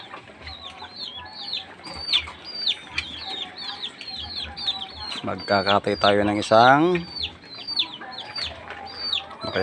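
Chickens cluck steadily and close by while someone talks over them, and a rooster gives a loud crow partway through.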